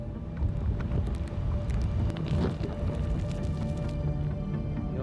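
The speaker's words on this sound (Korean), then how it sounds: "비 왔다 바람 부다게 지금 상황은 최악입니다" Wind and rain sweep across a lake during a bass fishing trip, with steady roaring buffeting and a dense patter running throughout. Boat or engine rumble sits underneath, and there are scattered clicks.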